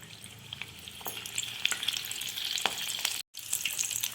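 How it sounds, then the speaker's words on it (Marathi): Spinach leaves deep-frying in hot oil for palak chaat make a continuous bright crackling sizzle with scattered pops, close by, briefly dropping out for a moment before resuming. "दोन्ही बाजूनी डीप करून तळून घ्यायचं आहे।"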